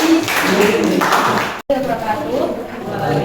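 Applause from a classroom audience for presenting group 4, steady broadband patter of many hands, with a short break in the middle, and a voice speaking over part of it.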